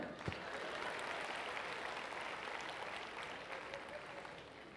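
Audience applause during a live comedy roast show, a steady wash of many clapping hands that holds evenly, slightly distant, and tapers faintly toward the end.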